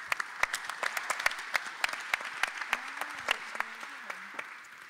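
Sparse audience applause after a university faculty debate, a few distinct hands clapping at an uneven rhythm, fairly quiet, with a brief low hum or murmur near the end.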